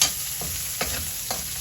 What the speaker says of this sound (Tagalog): hinahinaan natin ng konti para hindi masunog agad ang ating sibuyas